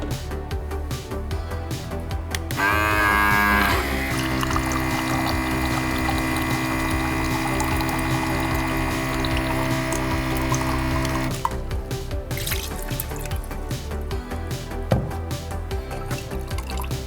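Water drains slowly through the hose of a DIY camper van sink in a Chevy Astro, a continuous gurgling, pouring flow with drips at the start and end, close and fairly loud.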